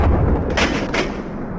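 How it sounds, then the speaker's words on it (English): Two sharp pistol shots ring out together in a tense audiobook scene, loud close bursts with a heavy booming low end. "McCarter and Fukuoka fired at the same exact instant."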